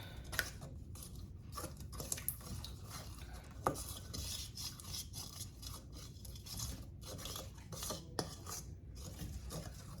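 A utensil scrapes and clinks softly against a bowl in steady stirring, quiet and close, as bread dough ingredients with yeast are mixed together.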